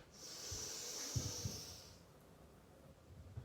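Quiet, close breathing through the nose during a yoga practice, a soft airy inhale and exhale with a faint hiss, heard alone in a calm room.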